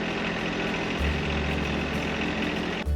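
A John Deere 1025r compact tractor engine runs steadily nearby during fall yard work, a loud continuous drone whose pitch shifts slightly about a second in and drops off just before the end.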